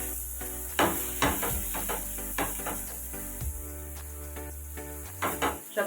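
Vegetables for Mumbai-style pav bhaji fry in a pan under a steady faint sizzle, while a utensil stirs and scrapes with a series of irregular clinks and knocks. No one speaks.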